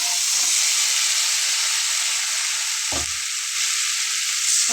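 Mashed pointed gourd dropped into red-fried spice paste in a pan, a loud steady hiss and sizzle with one brief thump of the ingredients going in partway through.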